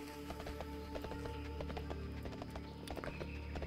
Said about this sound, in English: When my horse takes damage, it's horrible.